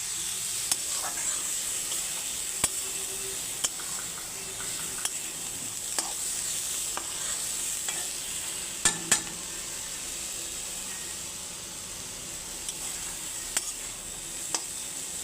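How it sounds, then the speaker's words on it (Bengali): Drumstick flowers and egg fry in a pan, sizzling steadily while a spatula stirs them with repeated sharp scrapes and taps against the metal. The sizzle stays continuous and fairly quiet. "একটু নেড়ে চেড়ে নিয়েই এখন আমি নামিয়ে দিচ্ছি"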